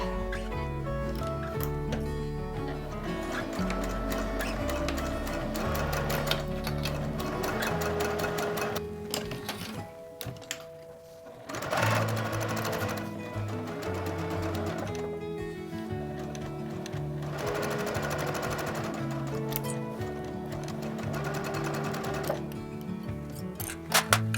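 Sewing machine stitching a seam at a 2.5 mm stitch length, a near, continuous mechanical whir with rapid ticking rhythm, briefly pausing around the middle before resuming steadily.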